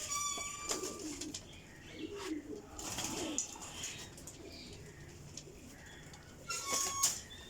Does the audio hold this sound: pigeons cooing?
yes